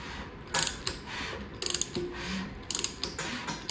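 A hand ratchet turns over a Ford FE engine during a pushrod length check, clicking in several short bursts of rapid pawl ticks separated by pauses, close and clear with no talking.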